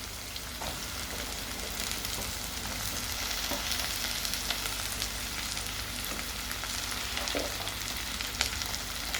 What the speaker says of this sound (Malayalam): ഇനി ഇതിനകത്തേക്ക് നമുക്ക് ആദ്യം അങ്ങോട്ട് ഉരുളൻകിഴങ്ങ് ഇട്ട് കൊടുക്കാം.